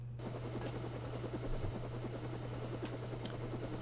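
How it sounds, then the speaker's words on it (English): A helicopter at a secret base in the game Deus Ex: Revision gives a steady rotor drone with a rapid rhythmic chop, constant and moderately loud throughout, with no talk. "Secret helicopter base."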